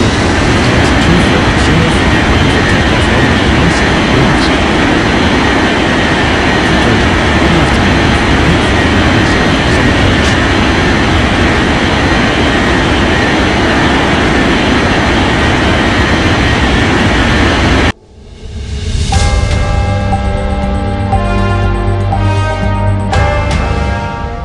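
Airplane engines at a busy airport in an air traffic control game set in Capeville City International, a loud continuous jet roar that cuts off abruptly, leaving a quieter engine hum with tonal game sounds, no talk.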